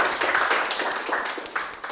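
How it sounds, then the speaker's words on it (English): An audience at a Whitefield Toastmasters club meeting clapping together: dense, fast applause fills the short stretch at a steady level, slightly uneven near the end. "let's have a huge round of applause for ourselves"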